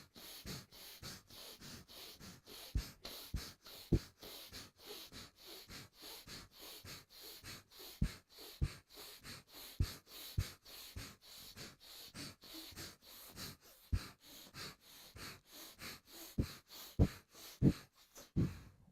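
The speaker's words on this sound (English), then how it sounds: "So block the left nostril, open the right, inhale. Block the right, open the left, exhale. So pumping now." Alternate-nostril breathing during a kriya yoga practice: sharp, pumping sniffs through one nostril at a time, repeating at a quick, steady rhythm close to the microphone, with no talking.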